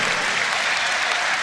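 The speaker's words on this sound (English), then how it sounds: "the crowd give him a big cheer" Spectators at an elimination race during the 2018 UCI Track Cycling World Championships cheer and applaud, a dense, steady roar of clapping filling the whole stretch with no break.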